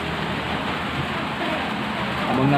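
Steady, dense rain hissing down, a continuous broadband wash that swells slightly louder near the end, with no voices.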